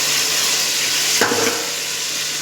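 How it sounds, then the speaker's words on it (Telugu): Tomatoes tipped into a pan of frying onions for an Andhra-style mutton dum biryani, giving a steady close sizzle with a brief louder burst of hissing and stirring as they land. "కొద్దిగా ఉల్లిపాయలు వేగిన తర్వాత ఈ టమాటాలు వేసేయండి"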